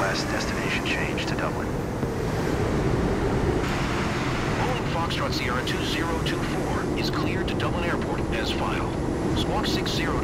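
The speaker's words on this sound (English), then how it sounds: "You can see the plane landing now." A jet airliner in Microsoft Flight Simulator 2024 makes its landing approach at Dublin, giving a steady loud roar of engine and wind noise with a broad rushing texture throughout and no pauses.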